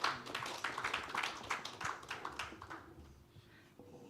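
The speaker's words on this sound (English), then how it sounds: "Let's clap for Mumba and Michael once more" An audience claps at a bank's annual financial results presentation in Uganda. The brisk clapping is faint and distant, then thins out and fades toward the end.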